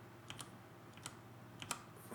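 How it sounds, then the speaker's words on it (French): A few quiet keyboard clicks, about five separate presses of the Z key on a computer keyboard, spaced irregularly against faint background hum. "appuis sur la touche Z"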